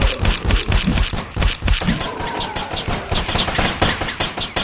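Rapid automatic gunfire in the zombie shooter ZIC: Zombies In City, loud and close, a dense stream of shots with short pauses, voices absent.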